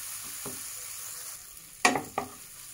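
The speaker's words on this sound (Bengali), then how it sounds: "দেখতে পাচ্ছেন গাইস, পেঁয়াজটা ভালো মতো কষছে, টমেটোর থেকে জলটা যেটা শুকিয়ে গেছে।" Onion and tomato sautéing in a pan for a mustard bata fish curry: a faint, low sizzle with two sharp spatula scrapes late on, close and without talk.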